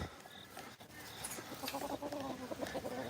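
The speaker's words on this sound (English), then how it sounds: "Big Bird is a shelter rooster." A shelter rooster making soft, close clucking calls, a few short vocal bursts over quiet background rustle.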